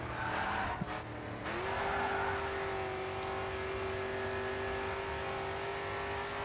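Race car engines roar in a GRID 2 video game race, a loud sustained whine that rises in pitch and then holds steady, with tire squeal and skidding mixed in.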